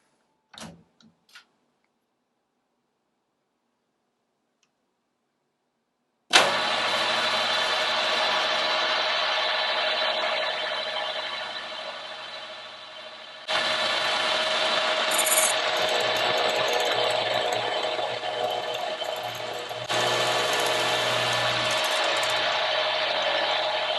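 A milling machine cuts the last slot in a part held on a rotary table, a steady loud whirring grind after a few faint clicks, briefly dropping in level and then resuming at full strength.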